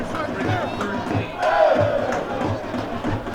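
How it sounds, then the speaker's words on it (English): Large crowd at a college football game between West Hills and Chabot in Hayward roars and cheers continuously, swelling louder midway with rhythmic stamping or drumming underneath. "the crowd is starting to feel it"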